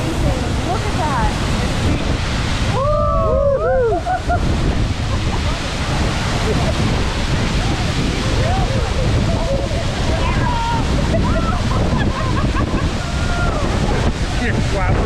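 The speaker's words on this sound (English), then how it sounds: "I bet you've never been that close to a waterfall" A waterfall roars up close with continuous heavy rushing water and strong wind buffeting the microphone, while people talk and exclaim over the din.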